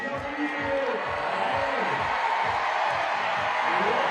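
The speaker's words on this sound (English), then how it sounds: "the crowd just is so loud" A crowd roars at a women's lead climbing final in Chamonix, a loud sustained cheer with whoops running under a commentator's continuous speech.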